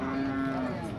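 A farmer's cow moos once at a busy cattle market, a loud, close, sustained low call filling the moment.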